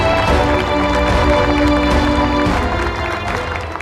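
Audience applause at a Samsung investment announcement event in Chungcheong, a loud, dense wash of clapping from a large crowd that carries on steadily and begins to fade at the close.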